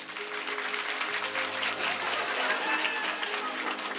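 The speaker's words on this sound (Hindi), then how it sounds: "तालियों की सेवा" A crowd at a Krishna birth festival gathering in Dharampur, Himachal Pradesh, claps loudly and steadily for several seconds, the dense applause filling the space with voices mixed in.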